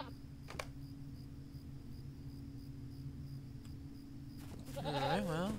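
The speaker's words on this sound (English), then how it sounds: "Ah, here's a goat." Goat bleating in a fantasy video game set in Gondor, a single wavering bleat near the end after a steady low hum and faint insect-like background.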